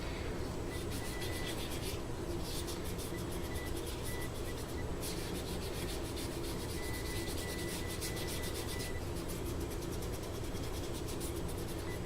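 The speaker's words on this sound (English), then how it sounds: "I'm going to buff it up and go with it" A lacquer finish being buffed on a custom nine-string electric guitar: a faint, continuous rubbing hiss with steady, even strokes and no voices.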